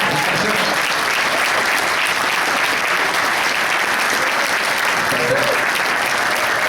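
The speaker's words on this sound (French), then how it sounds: "On a une bonne main d'applaudissement." Vigorous audience applause in a business presentation hall, dense continuous clapping holding at full strength for nearly seven seconds with a faint voice briefly audible within it.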